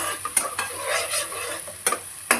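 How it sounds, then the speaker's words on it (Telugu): Green chillies fry in a pan for biryani, giving a soft continuous sizzle with occasional stirring scrapes and clinks, close and fairly quiet, with no voices. "ఇది పచ్చివాసన పోయేదాకా ఫ్రై చేయాలండి"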